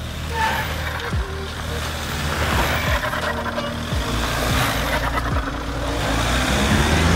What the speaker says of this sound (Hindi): गाड़ी ऐसे घुरा रही हो जैसे डायनासोर का गग गग गग आती है ना डायनासोर वाली मूवी में